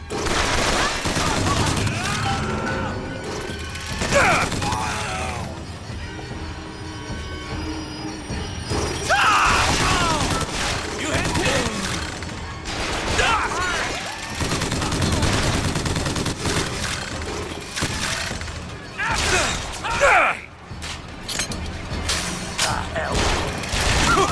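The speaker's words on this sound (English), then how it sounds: "So we're finally going to get an opportunity to use the crank gun." A crank gun fires in BioShock Infinite, with dense rapid bursts of gunfire and crashing impacts filling the scene while a voice talks over the combat.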